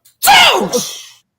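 A single loud, close sneeze bursts out after a brief quiet intake, trailing off in a breathy tail within about a second.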